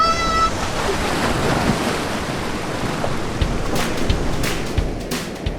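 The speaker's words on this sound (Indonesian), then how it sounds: "Pantai Madasari memang terkenal dengan deburan ombaknya yang besar" Large waves crashing on Madasari beach, a loud close roar of surf with gusting wind across the microphone and several sharp bursts of breaking water.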